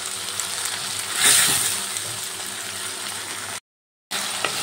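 Onions frying in fish oil in a pan, a steady close sizzle that swells briefly, then cuts out for a moment before resuming.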